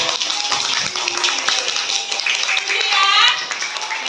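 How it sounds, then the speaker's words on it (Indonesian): Children in a classroom burst into dense, continuous applause that stays loud and even for several seconds. "Kalau setuju, kita beri aplaus untuk kesepakatan yang telah kita buat."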